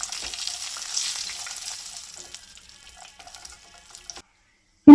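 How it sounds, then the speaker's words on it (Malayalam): Cashew nuts roasting in ghee for a Kerala payasam, a light crackling sizzle with stirring scrapes that fades gradually, then cuts off before a brief sharp sound at the very end. "ആ ഒരു നെയ്യിൽ തന്നെ ആ ഒരു കാഷ്യൂനട്ടും കൂടി ഒന്ന് റോസ്റ്റ് ചെയ്തെടുക്കുന്നുണ്ട്"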